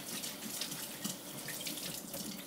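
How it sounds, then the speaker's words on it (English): Running tap water splashes steadily into a sink while a microfiber cloth is rinsed and rubbed against itself underneath, a close, even hiss with no talking. "as you rinse it, it's really important to rub the cloth together against itself."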